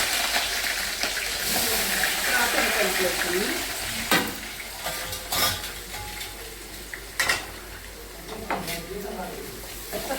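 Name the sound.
green chillies added to a pan for liver curry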